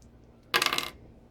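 Dice tumble and clatter on a tabletop in a Star Wars X-Wing miniatures game, a single close burst of rattling about half a second long.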